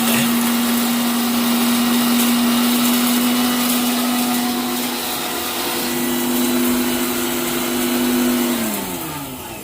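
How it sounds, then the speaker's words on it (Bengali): Kitchen blender grinding fried spices into a paste for ghugni, a loud steady motor whir with a sustained hum that dips and rises, then winds down near the end. "সেই ভাজা মশলাটা এইরকম পেস্ট করে নেওয়া হলো।"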